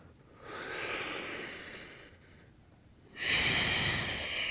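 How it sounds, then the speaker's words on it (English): Deep, audible breaths taken while holding a plank during an at-home upper body workout: a long exhale, a brief pause, then another strong, close breath, with no talking. "One more breath."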